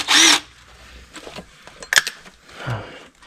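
A power tool tightens bolts on a 2009 Jeep Grand Cherokee, with a loud, short whir at the start followed by faint clanks and a couple of brief tool bursts, close by.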